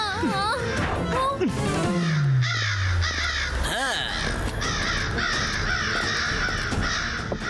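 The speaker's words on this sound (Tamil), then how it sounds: "இந்த காக்காவெல்லாம் வெளியில விரட்டு" Cartoon crows caw repeatedly and loudly over a busy animated soundtrack, with a falling whistle-like effect and cartoon voices chattering alongside the calls.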